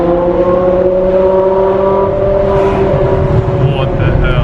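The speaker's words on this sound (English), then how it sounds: "That, dude, that sound is insane." A BMW E63 M6 V10 engine drones loud and steady from inside the car, its deep harmonic note holding for several seconds with only slight swells, while voices murmur faintly underneath.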